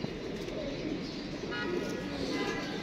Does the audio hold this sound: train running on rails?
no